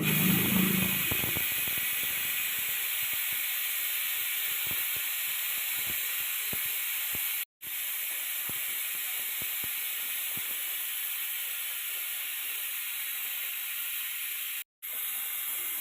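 A pressure cooker of beef lets off steam in a loud, continuous hiss. The sound is broad and steady and holds nearly sixteen seconds, cutting out completely twice for a moment before resuming.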